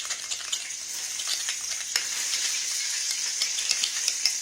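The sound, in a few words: stirring a mayonnaise, mustard and honey mixture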